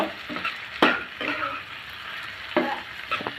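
Pumpkin bhaji frying in a pan with a spoonful of sugar added, stirred in several scraping strokes over a steady close sizzle, with quieter pauses between stirs.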